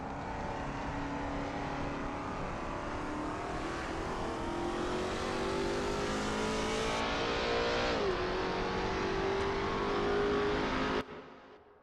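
A Lola T70 MkII Spyder race car on a practice out lap at Sebring in a racing game, its engine droning loudly and steadily with rising and falling pitch through gear changes, then cutting off abruptly at the end.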